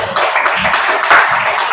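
A classroom group clapping hands together in a quick, rhythmic pattern of repeated claps, close and fairly loud, lasting under two seconds.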